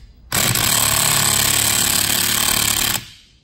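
Powered tool tightening a bolt with a Gearwrench Bolt Biter extractor socket, a steady loud mechanical rattling drone that cuts in sharply, runs about two and a half seconds, then stops abruptly.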